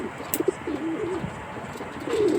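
Soft, low pigeon coos repeat several times over light background noise, with a few brief chirps mixed in nearby.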